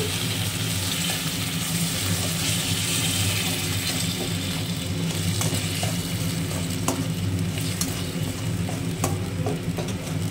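Spiced masala of garlic, tomato sauce and chilli powder being stirred in a kadai for vegetarian ghugni, a steady close frying sizzle with soft scraping throughout, no talking.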